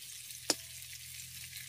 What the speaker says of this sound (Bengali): এদিকে আমাদের আলু আর পটলটাও কিন্তু ভাজা হয়ে গেছে